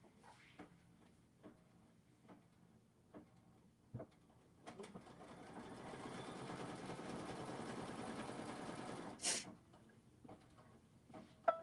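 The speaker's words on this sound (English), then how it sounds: "It's just a placement stitch for the stems" An embroidery sewing machine runs a placement stitch for strawberry stems, a steady rapid whirring hum lasting several seconds after a few scattered clicks, then stopping with a brief higher whine near the end.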